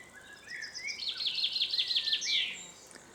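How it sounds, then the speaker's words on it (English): A chaffinch sings in the background on a countryside walk, a quick descending trill of bright chirps ending in a flourish, fairly faint and distant over a quiet outdoor hush with no talking. "As you can hear in the background, it's a chaffinch"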